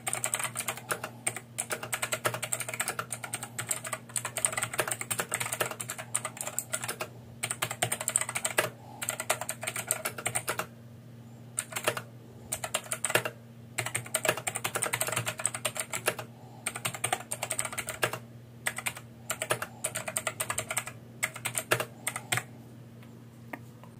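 Typing on a K3 Shimmer 95% hot-swappable mechanical keyboard fitted with blue switches, a close, steady stream of sharp clicky keystrokes in bursts with a few brief pauses, over a faint constant hum.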